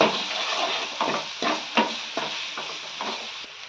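A spice masala with salt is stirred in a cooking pan, producing a run of close spoon-scraping strokes over a light sizzle, each stroke a short rasp in an uneven rhythm.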